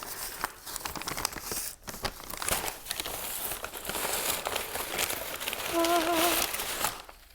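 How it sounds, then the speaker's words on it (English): Paper bag crinkling and rustling as a succulent and air plant package is unpacked, steady close handling noise with brief tearing bursts and a faint tonal whistle near the end. "next we've got a paper bag."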